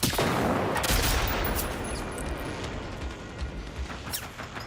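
Shotgun fire in the survival shooter Generation Zero, a loud burst of blasts at the start that settles into an ongoing rumble of distant gunfire and crashes.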